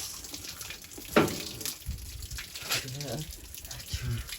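Cold water is poured and splashed over a cow during an outdoor bath, with uneven slaps and dribbling gushes coming in bursts, close by, amid background voices.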